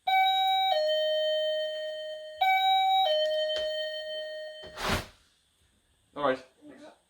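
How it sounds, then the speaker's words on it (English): An electronic doorbell chimes twice, each ring a clear two-tone ding-dong with a sustained ringing tail, followed by brief rustling and a few short voices near the door. "I finally got the ding-dong at the door"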